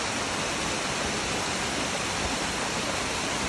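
A small cascade waterfall at Leura in the Blue Mountains, a steady, dense rush of falling water heard up close, unbroken and alone.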